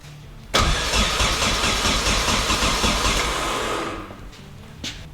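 A Datsun 510 wagon with a KA24DET engine cranks loudly and close by for about three and a half seconds, a dense churning whir that fades and stops, followed by quiet.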